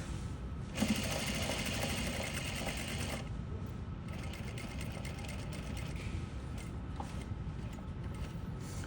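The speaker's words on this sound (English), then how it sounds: "I'm gonna place the first stitch right on the edge there." A sewing machine stitching along a pocket edge gives a short, brisk burst of close whirring, then falls to a softer mechanical hum with light clicks.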